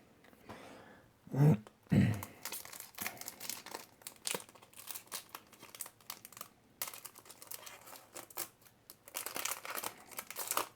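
Pokémon Sword and Shield booster pack wrappers are torn and crinkled open up close, with two sharp rips followed by a run of quieter rustling and crackling paper handling.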